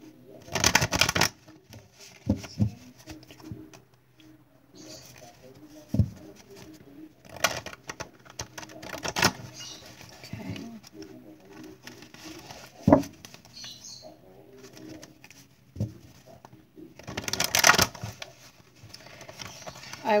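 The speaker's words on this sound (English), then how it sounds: "let me do three shuffles and we're ready." Tarot cards are shuffled in several short, crisp riffling bursts separated by quiet pauses and faint handling noises.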